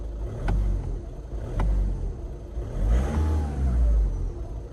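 A 2000s-era R56 Mini Cooper S with a five-speed manual idles and revs in short bursts, a close, rumbling engine with a few sharp clicks and no talking.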